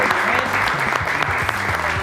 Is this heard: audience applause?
yes